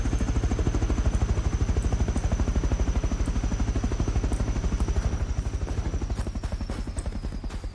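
A helicopter in the survival game Rust drones steadily and loudly with fast rotor chop throughout, a constant close whine riding above the beating blades.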